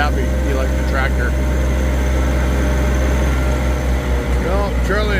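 A tractor engine idles on a farm where wood chips are being moved, giving a steady low rumble. Voices and animal calls sound over it at times.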